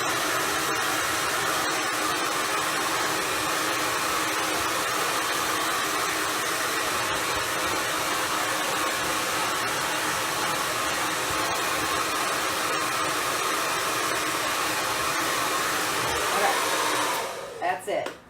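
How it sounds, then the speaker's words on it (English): A hair dryer blows loudly and steadily, a constant airy roar that cuts off abruptly near the end. "So I'm going to use my hair dryer"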